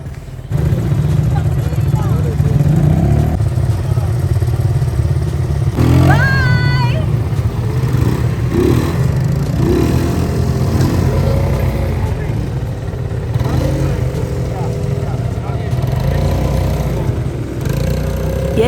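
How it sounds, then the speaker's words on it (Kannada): A quad bike rides over desert sand, its engine droning steadily and loud throughout at close range, with a brief rise in pitch partway through and people talking over it. "ಇವಾಗ ಬೈಕ್ ರೈಡ್ ಮಾಡ್ತಾ ಇದ್ದೀವಿ."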